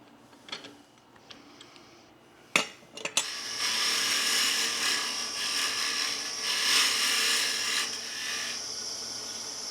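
Hollowing and shaping the top of a small wooden utility box on a lathe: a few light knocks and taps, then a sustained, bright, close scraping cut that runs steadily for several seconds.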